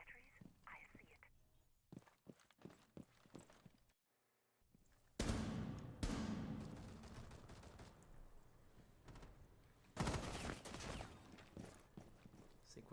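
Rapid bursts of gunfire in a Rainbow Six Siege esports match, loud and dense in two clusters after a brief silence, with quieter clicks and shuffling earlier and commentators talking over the action.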